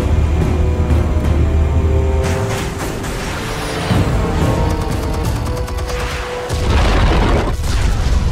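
Heavy explosions from detonated explosive charges in a Batman video game, deep rumbling booms rolling over continuous loud action noise with debris and crashing textures, no talk.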